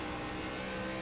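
A race car engine at Darlington drones under careful throttle control, a continuous close buzzing roar with no break over a single second.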